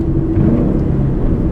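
A Ford Mustang with a Coyote V8 pulls through the gears, heard as a brief, close, steady engine drone with a low rumbling hum and no speech.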